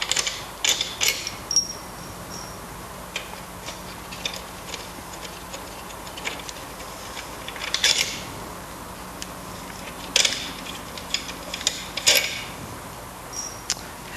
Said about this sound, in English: So before you assemble the closure, or the coupling, you need to back off the bolts.